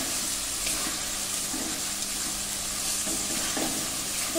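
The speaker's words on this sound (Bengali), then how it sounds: "আলু দিয়ে খুব ভালো করে নেড়ে নেব।" Boiled potatoes stirred into sizzling masala in a pan, a steady, close frying hiss with occasional soft scrapes of a spoon, no voices.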